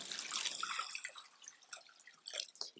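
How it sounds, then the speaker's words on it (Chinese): Clean water pours into a large bowl holding a spoonful of salt and a spoonful of starch, a soft, close splashing trickle that thins into scattered drips. "倒入适量的清水"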